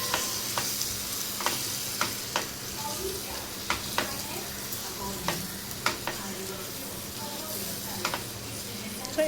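A spoon scrapes and stirs onion and tomato masala in a hot pan for a village-style dry fish curry, sharp clinks recurring every second or so over a continuous soft sizzle.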